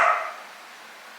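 A single close bark from a dog indoors at home, sharp at the onset and then fading into quiet room tone.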